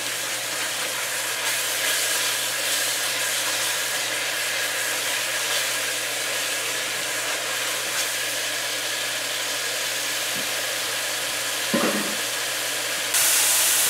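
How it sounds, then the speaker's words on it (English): Onions and pork frying in curry paste in a pan for a Guyanese pork curry, giving a steady, loud sizzle with a brief stir partway through and no talking. "And then we're gonna add our onions"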